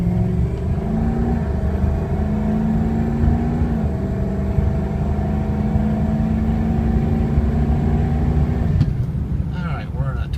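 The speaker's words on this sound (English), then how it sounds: "big truck got going pretty good there" A lifted 2003 Ford F250 diesel 4x4 pulls away with a loud, steady low rumble that climbs through a gear before easing off near the end, with a voice talking over it.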